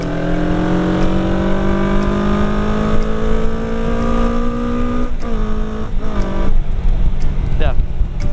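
A Verza motorcycle with a two-cylinder R25 engine pulls hard, its pitch climbing steadily, then drops and revs again in short bursts, loud and close.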